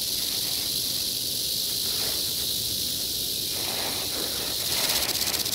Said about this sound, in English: The hunter listens for the telltale rattle.